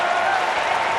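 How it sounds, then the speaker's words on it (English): Baseball stadium crowd at an Orioles versus Cubs game, a sustained wash of applause and cheering from a large audience filling the space evenly, loud and continuous with no pauses. "here comes the crowd"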